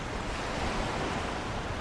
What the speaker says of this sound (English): The roar of the ocean waves provided a sense of calmness that they both could appreciate